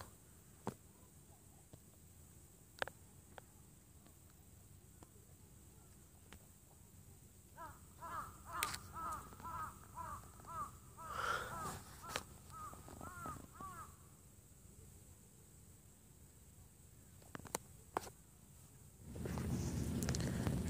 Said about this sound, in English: Definitely aware of you, Mr. Crow.